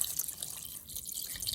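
Faint running water splashes and trickles steadily for a moment as water is poured into a pot of seasoned meat-pie filling.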